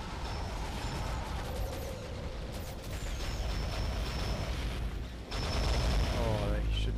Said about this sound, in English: It's a laser gatling. Pretty fucking powerful.